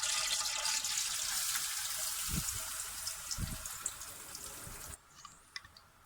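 Water running steadily into a mixer grinder jar as it is rinsed out, a close, continuous hiss of flow that stops near the end, leaving a few faint drips and clinks.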